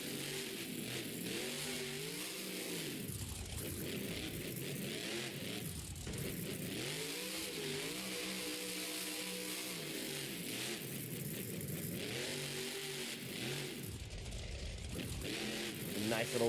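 A monster truck engine roars and revs hard during a wheelie at a Monster Jam stadium show in Las Vegas, loud and sustained with rising and falling pitch sweeps and a noisy arena backdrop.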